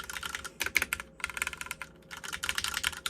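Rapid keystrokes on a compact mechanical keyboard, close and crisp, in quick bursts broken by two brief pauses, with no talking.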